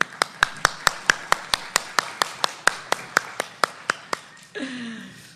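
A few people clap in a sparse, evenly spaced rhythm for a professor introduced at an academic conference panel, each clap crisp and distinct, before a brief rustle at the end.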